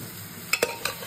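Boiled jackfruit tipped into masala frying in oil: a steady sizzle with three quick clicks of a spoon against the pan.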